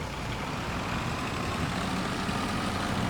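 Steady, loud low rumble of a truck engine idling in Farming Simulator 22, a continuous heavy drone with no talking.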